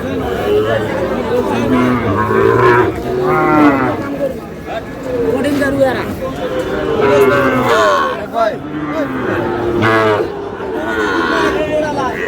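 Sahiwal bull calves low repeatedly at a busy cattle market in Dinajpur, their loud moos rising and falling amid constant nearby chatter and crowd babble.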